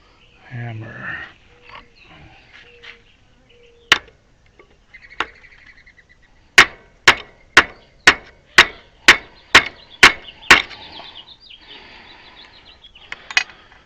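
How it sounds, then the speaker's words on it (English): A hammer strikes a wooden jig during the build of an experimental DIY wind generator, giving a steady run of about ten sharp, loud knocks after a few scattered taps, with brief talk at the start. "Hammer."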